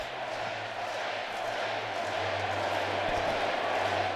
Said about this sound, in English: Crowd chanting their opinion.